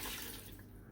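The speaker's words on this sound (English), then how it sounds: "simply just pour in 1 glass of coconut milk" Coconut milk pouring into a Vitamix blender jar with strawberries, a steady wet gushing splash that is loud at first and then eases off slightly over about a second, with no voices.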